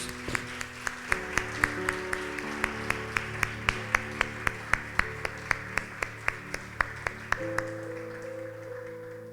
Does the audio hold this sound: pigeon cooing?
no